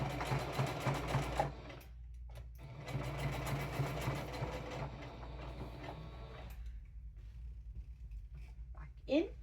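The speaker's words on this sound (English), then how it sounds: "and then I'm going to start sewing." Sewing machine stitching a patch onto a sleeve, running in steady bursts with brief pauses between, close and fairly quiet, with a short click near the end.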